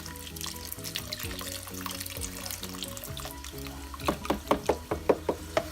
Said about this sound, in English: I'm gonna dump all of that water in.